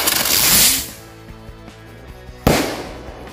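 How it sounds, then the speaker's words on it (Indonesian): A Super Blitz firecracker, the spinning kind that whirls like a top and then shoots upward, lights with a loud fizzing hiss. It thins to faint crackles and ends in one sharp, close bang. "selanjutnya ini mercon Super Blitz, bisa berputar seperti gangsing kemudian terbang ke atas"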